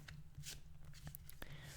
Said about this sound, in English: focusing your attention on the shuffling sounds, for example